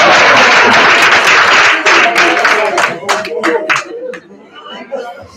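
Audience applause at a government social media summit, a dense burst of clapping that thins out into scattered claps over a murmuring crowd with some chatter.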